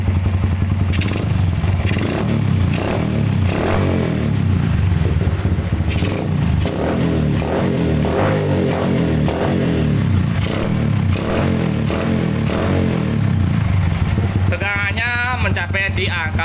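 Yamaha Byson motorcycle engine revving during a charging voltage test, loud and steady close-up roar with clattering mechanical noise throughout, and a voice speaking briefly near the end.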